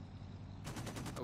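Aircraft machine guns chatter in the IL-2 1946 flight game, a sudden rapid burst of evenly spaced shots starting partway through over steady engine drone, fairly faint.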